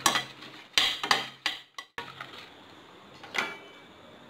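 Dried red chillies roasting in a pan for idli podi, heard as a sequence of sharp scraping and clinking strokes of a spatula against the pan with brief pauses between them, close and fairly quiet.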